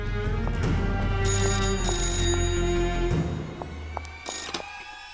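A telephone rings repeatedly, loud and near, over a low hum, then falls silent.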